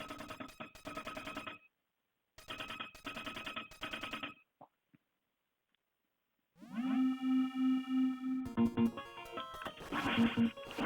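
Electronic telephone ringtone chirping in repeated bursts with short gaps, followed by steady sine-like tones and a brighter warbling ring, fairly loud with no talk.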